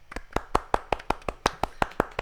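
A small group claps steadily and briskly for Formula E double champion Jean-Éric Vergne, with about a dozen sharp, close claps at a quick even rhythm and no talk.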